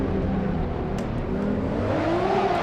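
A Ferrari race car in Assetto Corsa career mode pulls hard with a steady, droning engine whose pitch climbs as it accelerates, loud and continuous with no speech.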